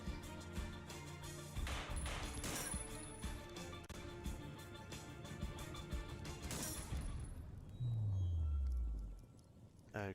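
Bursts of gunfire in the video game Miasma 2 as a unit shoots at a tank, dense crackling shots filling the scene with crashes, ending in a loud descending engine-like whine before falling quiet.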